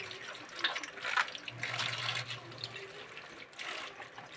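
Mustard greens rinsed under a running tap, a steady splashing stream of water with soft handling of leaves, close by and fairly quiet throughout.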